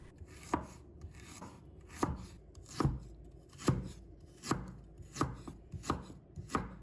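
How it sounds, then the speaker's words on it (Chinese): A knife slices fresh ginger into thin slices on a cutting board, giving about nine crisp, evenly spaced chops that sound close and distinct. "再准备一块生姜，把它切成薄片"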